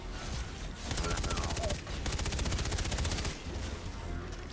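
Rapid gunfire from the Far Cry 3 Blood Dragon video game, dense automatic bursts that run almost continuously, loud and close, with brief lulls between the volleys.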